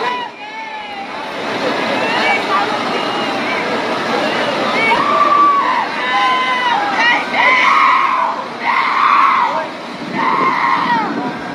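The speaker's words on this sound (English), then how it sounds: "And then you can hear somebody screaming." Repeated high-pitched screams during a shooting at a Tulsa mall, rising in several bursts over murmuring crowd noise and background talk.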